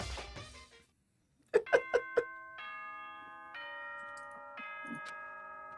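Announcement chime from the Danganronpa video game: four quick bright bell strikes followed by a sustained, layered chord that steps through several held tones, clear and alone after a brief bit of voice.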